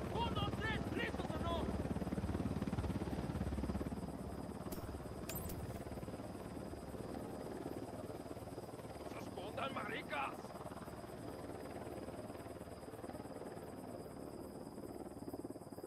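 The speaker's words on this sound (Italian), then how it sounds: "Aereo unità in avvicinamento, giù." An aircraft approaches in the video game Tom Clancy's Ghost Recon Wildlands as a steady engine drone, strongest in the first few seconds before easing to a lower hum, with short game sounds and voices mixed in.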